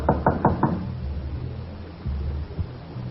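Four quick, firm knocks rap on a door in a steady rhythm, close and distinct, followed by quiet room tone with faint low thumps.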